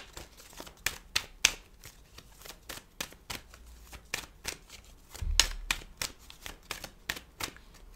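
A deck of playing cards shuffled repeatedly by hand, close and fairly quiet, with a steady run of crisp riffling bursts and a brief louder thump midway.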